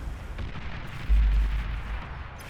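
Bombing explosions in the Beyond All Reason strategy game: a continuous rumble of distant blasts swells into a heavy, deep boom about midway, then slowly fades back to a low roar.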